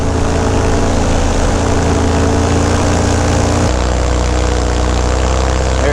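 A light single-engine propeller airplane taxiing out toward the runway at an airport, its engine droning loudly and steadily up close, the pitch dropping slightly partway through, with no talking over it.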